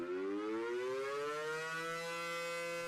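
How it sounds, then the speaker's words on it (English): Air raid sirens wail in a long, rising tone that swells and sustains, loud and unbroken with no voices. "Hundreds of air raid sirens wailed through the still night air"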